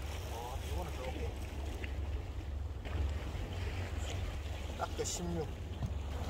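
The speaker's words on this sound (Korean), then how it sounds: "바람이 조금 강하게 불어서" Strong wind gusting across seaside rocks during rockfish lure fishing, a steady low roar of wind noise with water lapping, continuous throughout with someone talking over it.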